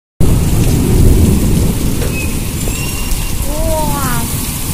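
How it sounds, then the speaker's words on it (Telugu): A heavy, wind-driven rainstorm roars loud and continuous after a short silent start, with deep thunder rumbling underneath and a few thin whistling tones near the end. "ఓ చూడండి వర్షం, గాలికి ఎగిరిపోతుంది చూడండి వర్షం"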